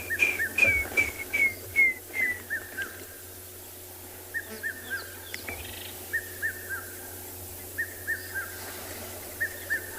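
A water thick-knee calls down by the water at sunset on safari, a series of clear whistled notes repeating in evenly spaced phrases with a slight echo, moderately distant, with no talk over it.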